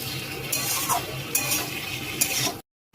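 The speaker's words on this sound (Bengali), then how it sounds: "এবার একটু নাড়াচাড়া করে দেবো, ভাজা ভাজা করবো" Soaked Gobindobhog rice stirred in a hot pan, a steady close sizzle of frying with a spatula scraping in a few distinct strokes, then sudden silence at the end.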